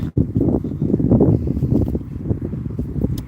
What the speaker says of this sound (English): It is a little bit windy out here right now.